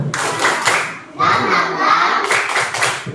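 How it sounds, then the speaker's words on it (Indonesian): A school class stands and performs a rhythmic spirit clap, children clapping in bursts together with chanted voices, loud and close, with a brief pause before the group clapping and shouting resumes. "tepuk semangat"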